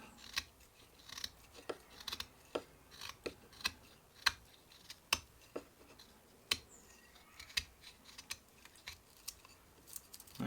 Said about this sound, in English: spin the piece around in my hand and cut like that, keep coming around, try to make a circle